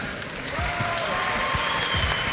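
Steady applause from a crowd at a gaming convention panel talk fills the whole moment, dense and even in loudness without breaks.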